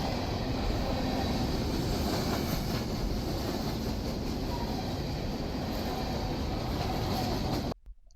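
A coal train rolls past steadily at close range, a dense continuous rumble of railcars and wheels that holds for nearly the whole stretch, then cuts off abruptly into near silence at the end.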